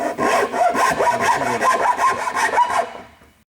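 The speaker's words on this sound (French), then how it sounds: "pour être tranquille, je prends une lime" A wooden table leg joint worked with a hand file, giving a loud, close, rasping scrape in about a dozen quick even strokes that stop abruptly, with no talk.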